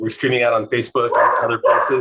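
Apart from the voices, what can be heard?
dogs barking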